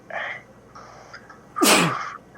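A single loud, sharp sneeze bursts out after some faint background murmuring, close to the listener.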